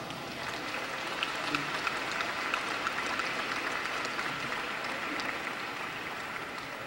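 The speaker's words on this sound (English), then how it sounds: "Please give them a round of applause." Steady applause at the Dayton Unit NAACP Freedom Fund Banquet, a banquet hall audience clapping fairly quietly and continuously, sounding somewhat distant, with faint crowd murmur underneath.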